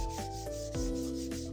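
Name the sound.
sanding painted wood with 240-grit sandpaper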